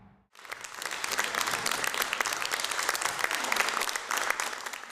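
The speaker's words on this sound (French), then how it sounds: "Sous les applaudissements d'un public conquis" Sustained applause from a theatre audience after a film screening, dense rapid clapping that swells quickly and holds steady, loud and close throughout.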